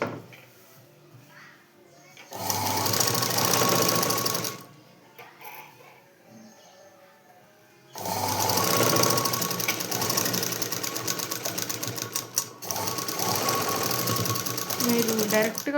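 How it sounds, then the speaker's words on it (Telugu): A sewing machine stitching fabric runs in two loud bursts of rapid mechanical whirring, the longer one lasting several seconds, separated by quiet pauses. "ఇంకా ఇలా కుట్టేసుకోవడమే."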